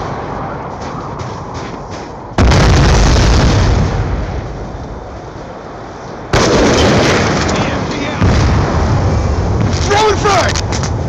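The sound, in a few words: grenade explosion in a video game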